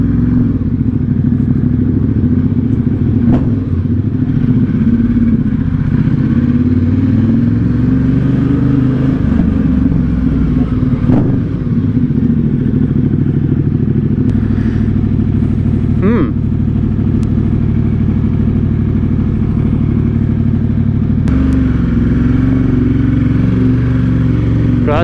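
A motorcycle with a large engine makes a hill start and climbs uphill, its engine droning loudly and steadily throughout with shifting pitch, occasional clunks and a voice talking over it.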